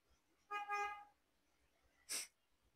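A single faint, brief sneeze from a woman in a classroom or lecture setting. It comes after a short harmonic vocal sound, and there is no other talking.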